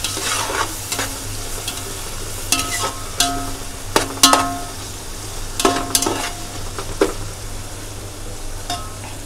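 Onion sautéing in wood-pressed coconut oil in a pan, a steady close sizzle broken by sharp scrapes and clinks of a spoon stirring against the metal.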